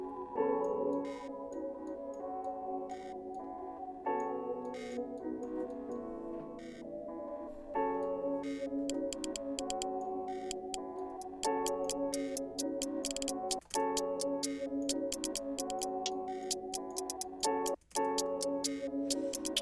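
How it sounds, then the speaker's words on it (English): Hi-hats in a trap beat tick in fast, rolling patterns over a melodic bed of sustained tones, crisp and close, with occasional dropouts and stutters, no voices. "As you can see, I use a lot of hi-hats."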